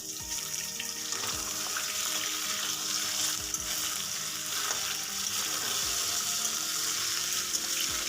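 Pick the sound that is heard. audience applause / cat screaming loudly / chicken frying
chicken frying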